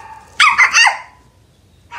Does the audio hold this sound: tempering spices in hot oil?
no